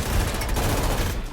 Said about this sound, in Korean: 총소리에 놀란 모자.